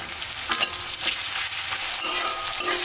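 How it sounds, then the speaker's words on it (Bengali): Chopped onions frying in hot oil in a pan give a continuous close sizzle, with a few soft stirring scrapes over the bubbling. "পেঁয়াজ দিয়ে দিলাম"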